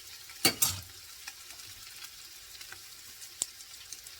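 A spoon scraping browned garlic and onion off the bottom of a soup pot, a couple of sharp close scrapes followed by faint scattered stirring sounds and a soft sizzle.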